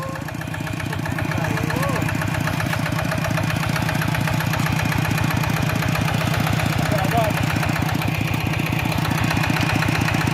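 A tractor engine labors loudly and close while stuck on a paddy field dike, its rapid pulsing chug strained and continuous, with voices calling out over it at moments.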